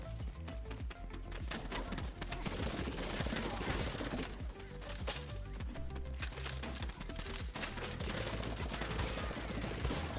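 Shotgun fire in a video game, repeated loud blasts with busy game noise through the whole stretch, steady and close, no talking.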